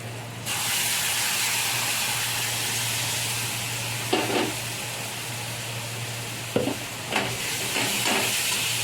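Mustard paste frying in a pan for a parshe fish curry, giving a steady close sizzle and hiss with a few scraping stirs near the end.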